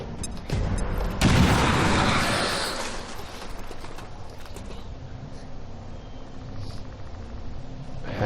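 A grenade explosion in XCOM 2: a loud burst rises into a roaring blast with crackling debris, then fades into a long, rattling, mechanical tail.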